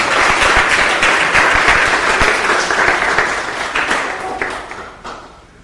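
A church congregation applauds loudly together, steady clapping that gradually fades out toward the end.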